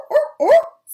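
A voice imitates a seal with two short, honking barks in quick succession, close and fairly loud.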